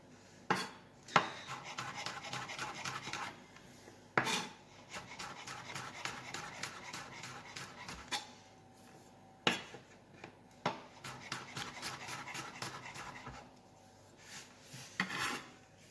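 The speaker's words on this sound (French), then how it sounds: "Donc l'ail, on l'a déjà dégermé. Et on va venir le couper voilà" A knife chops garlic on a cutting board in rapid runs of crisp taps, broken by a few sharper knocks, close and clear with no talking.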